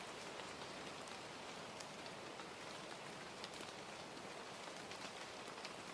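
Steady rain falls evenly on outdoor surfaces, a dense, continuous hiss with faint scattered drop ticks, soft and unbroken throughout with no voices.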